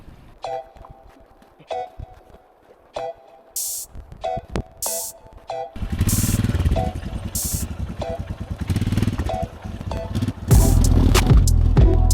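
A motorcycle engine putters and then revs louder over a bumpy off-road track in Mongolia, with irregular knocks and rattles and occasional bursts of hiss.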